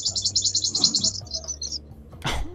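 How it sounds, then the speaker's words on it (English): Loud, rapid bird chirps in a quick repeated series that trails off into a few shorter calls, followed by a brief sharp noise. "my god, those are some loud bird chirps."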